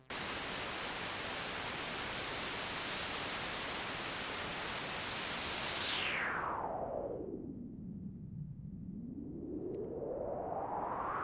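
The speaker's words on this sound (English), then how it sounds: "the amount of noise coming from the white noise generator" Broadband white noise from a Moog Mother-32 synthesizer hisses steadily and loudly, swept through its filter so the tone brightens, dips into a dark, muffled whoosh, then opens again toward the end.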